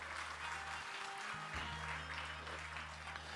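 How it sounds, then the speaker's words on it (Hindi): Audience applause at a spiritual discourse hall, a steady wash of clapping held at an even level throughout with a low hum beneath and no voices on top. "तालियां बजाओ इस बात के लिए।"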